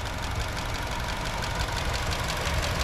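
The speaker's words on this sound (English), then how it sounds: "And that engine is sounding good." A 2020 Buick Encore Essence AWD engine idles steadily with a continuous low rumble and even hum, no talking, holding constant loudness throughout.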